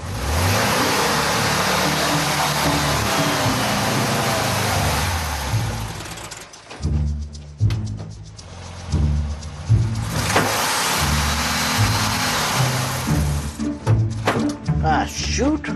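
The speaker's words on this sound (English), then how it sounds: "Time and again, Shelby gives the car too much gas" A car engine revving hard from too much gas while a learner driver fumbles the clutch, a loud sustained roar that drops off midway, then uneven bursts of revving and idling with people talking over it.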